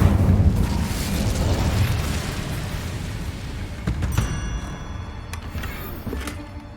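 The Incendio fire spell is cast in Hogwarts Legacy, a loud booming burst of flame that rumbles and crackles before thinning into sharper pops.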